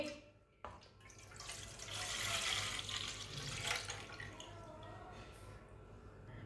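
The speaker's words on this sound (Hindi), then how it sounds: "3 पाव दूध डालेंगे।" Milk poured into a pot for a quick custard sweet, a steady broadband pouring wash that swells after a sharp start and continues unbroken at moderate loudness, with no talk over it.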